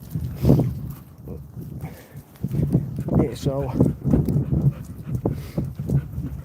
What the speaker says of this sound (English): Sorry, I'm walking the dogs here.